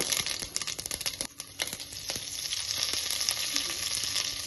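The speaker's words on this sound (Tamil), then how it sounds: "கடுகு போட்டுக்கிறேன்." Mustard seeds sizzle and pop in hot oil for arisi paruppu sadam, a loud, dense frying hiss with rapid crackles and brief stirring scrapes, close up with no voices.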